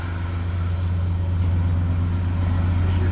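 A 1995 Chevy Cheyenne pickup idles just after a cold start, giving a steady, low engine hum with an even, unchanging drone, heard fairly close with no talking.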